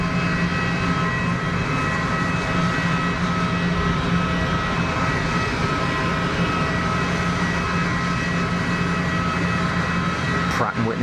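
A Pilatus PC-12 turboprop powered by a Pratt & Whitney PT6 engine at Geneva Airport, heard as a steady, loud, droning roar that holds throughout while someone talks over it.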